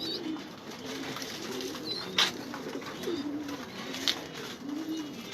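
Pigeons pecking grit coo in repeated rolling phrases, steady and fairly close, with sharp little clicks and taps of beaks on the feed scattered through.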